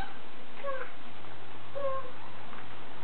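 A pet cat gives two brief, soft meows about a second apart, close by in a quiet indoor room with low background hum.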